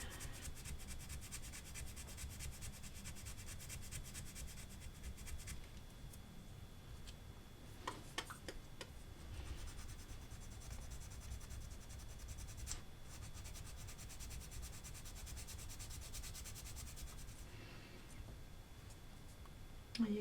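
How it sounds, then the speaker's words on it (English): Sanding stick rubbing steadily over a small plastic card wedge or shim, a soft continuous scratchy friction at low level with a few faint ticks. "what I'm doing is I'm loading this end of the sanding stick, so I'm not really sanding this end of the wedge or the shim"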